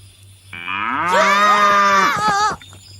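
Cow lets out one long, loud, close moo that rises, holds steady and then drops off, standing alone over a low steady hum.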